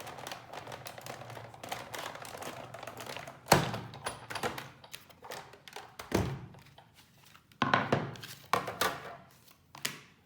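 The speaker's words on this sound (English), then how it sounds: "I've got my die cutting machine, and I am going to emboss the Sahara sand" A die cutting machine embossing Sahara sand card stock: irregular mechanical clicks, thumps and rattles of the rollers and plates cranking through, with a few louder knocks, close and alone.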